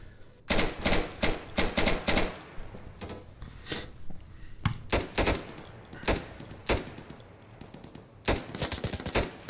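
Bursts of automatic gunfire from the video game Insurgency crackle in rapid clusters, with short volleys and single sharp shots separated by brief pauses, loud and close.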